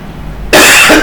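A single sharp, loud cough bursts in after half a second of quiet room noise, followed by a brief second catch of the throat near the end.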